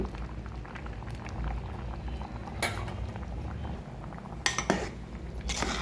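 Milk and moong dal payasam boils in a pot, a soft continuous bubbling with a few light clinks of a spoon against metal near the end.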